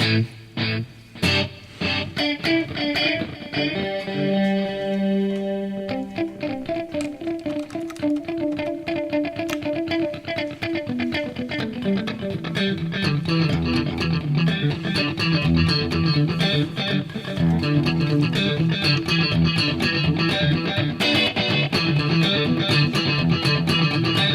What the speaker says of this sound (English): In this case, the delay is louder than the original sound.